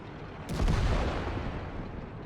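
An artillery shell strikes a tank in the World of Tanks video game as one heavy, close explosive boom that rolls out into a long, fading rumble.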